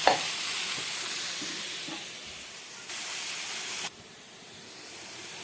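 Ridge gourd cooking in a pan gives a soft, continuous sizzle and hiss with faint scraping as it is stirred. The sound sits close but low, briefly swells near the middle, then drops quieter, with no voices.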